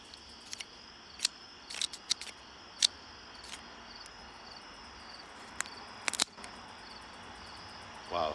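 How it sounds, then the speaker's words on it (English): A cutter slicing through packaging, close-miked: sparse, sharp snips and scratchy cuts scattered over a faint, quiet room hiss, with brief bursts near the end. "Oh, now we get to do a cutting on the ASMR."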